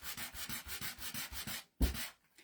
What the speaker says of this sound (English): I've just always been a sander, so I'm going to stick with sanding.